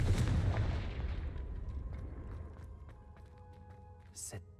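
Casting the Confringo fire spell in Hogwarts Legacy sets off a loud booming blast that rumbles away into a fading tail, followed by faint game tones and a brief whoosh.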